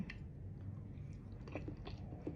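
Boiled eggs being chewed at close range, soft squishy bites and mouth sounds repeating quietly with little else around.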